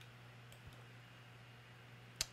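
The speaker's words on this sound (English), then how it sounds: "So I'm just clicking and dragging to create these key points." Computer mouse clicks while dragging key points in GIMP, two faint isolated clicks over a quiet steady hum, the second sharper and louder.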